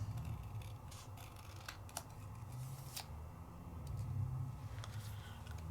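Paper is cut by hand with scissors instead of a trimmer, giving a few quiet, close snips over a faint low background hum.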